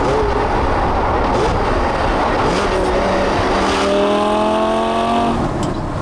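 A Lamborghini Gallardo LP550-2 Balboni V10 engine roars continuously from inside the cabin, revs rising and dropping in repeated sweeps as the driver downshifts.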